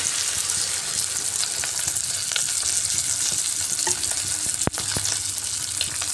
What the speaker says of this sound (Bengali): এবার দিয়ে দিচ্ছি ঝুলের জন্য পরিমাণ মতো জল